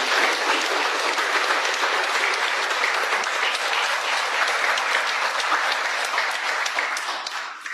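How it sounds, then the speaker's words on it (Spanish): A conference audience at a ufology talk in Maldonado gives loud, dense, steady applause that holds for the full length and tapers slightly at the very end, with a faint crowd murmur underneath. "al cual le pido un aplauso fuerte"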